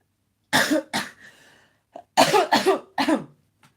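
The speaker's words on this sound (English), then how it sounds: "I'm still coughing." Two bursts of harsh coughing, a pair of coughs followed after a pause by a quicker run of three, close and loud.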